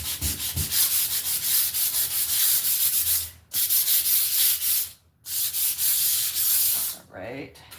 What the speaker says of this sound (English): we would definitely have to hit some of these spots with the sandpaper just to make them